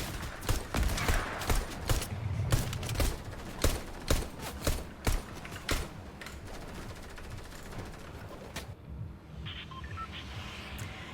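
Rapid in-game gunfire from Fortnite weapons rattles off in sharp bursts and single cracks, moderately loud, easing into quieter ambient game sound near the end.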